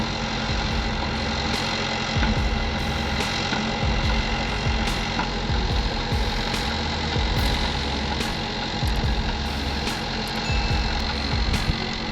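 A heavy Kirovets K700 tractor engine runs loudly and steadily up close, with a deep rumbling drone and occasional knocks and clanks.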